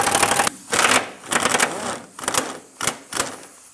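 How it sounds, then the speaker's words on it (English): Ratcheting clicks of a 13 mm socket backing out fuel tank strap mounting bolts on a 2012-2020 Ford Focus, heard as several short bursts of close, sharp clicking separated by brief pauses, no talking. "now with a 13 millimeter socket, I'm gonna take off the three mounting bolts for the straps"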